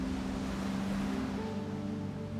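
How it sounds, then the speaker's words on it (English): Ocean surf washing onto the shore, a continuous loud roar of breaking water with some wind noise and a faint low hum, no voices. "The ocean is powerful. It's a big, mysterious place."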